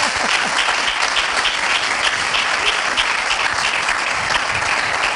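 Congregation in a church breaking into sustained applause and cheering, a dense, steady wash of clapping hands filling the space without pause.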